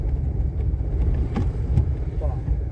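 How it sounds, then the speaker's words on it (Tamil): A car on the road during a learner's driving lesson, with a steady low engine and road rumble throughout and a voice talking over it. "எக்ஸைட் யூஸ் பண்ணால் வண்டி போகும்"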